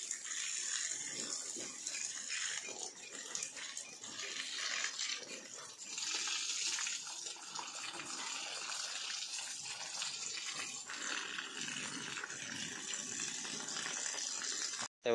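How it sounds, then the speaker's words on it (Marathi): Water streams steadily onto garden plants as they are watered in strong sun, a continuous splashing gush heard up close with no talk. "तर आता हे बघा झाडांना जरा पाणी घालून घेतो का."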